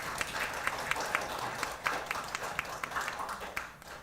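Audience applause at an indoor human-rights forum session on disability care, steady scattered clapping at moderate level through the whole stretch with no talk over it.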